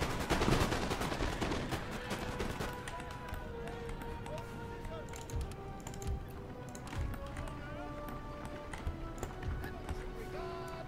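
Volleys of musket fire from British infantry in the Napoleon Total War battle game crackle as dense, overlapping shots across a busy battlefield mix, with a voice talking over the top.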